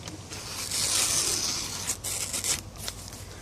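A sharpened knife stamped 1060 Japan slices through paper in a cut test, giving a soft, hissy rasp that swells and fades over a few seconds, with a few short crisp strokes near the end and no talk.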